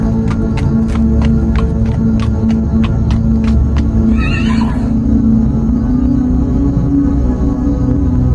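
A horse whinnies briefly over a loud, steady low hum, after a run of regular clicking or clopping beats.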